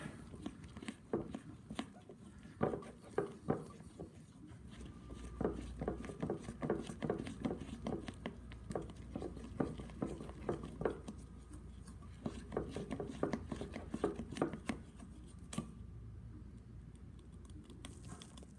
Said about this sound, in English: now we're gonna take our spoon and we're gonna mix this baking soda in there